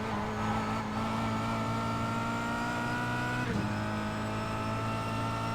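Kia Cup race car at Zolder circuit, a steady loud in-car engine drone holding near-constant revs, with a brief shift-like dip midway before the tone resumes.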